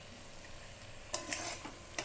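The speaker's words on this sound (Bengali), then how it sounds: "দেখো বন্ধুরা মশলার সাথে কষিয়ে নিচ্ছি" Prawns are stirred with spice paste in a pan for a prawn malai curry, a faint low sizzle with a few sharper scraping stir strokes in the second half.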